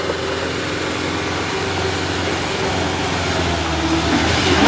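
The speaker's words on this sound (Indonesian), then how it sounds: "ini truk yang mundur tadi mencoba kembali ya bosku" A heavy truck engine labours loudly and continuously as the truck tries again to climb a steep hill in Jakarta, a steady drone that swells slightly near the end.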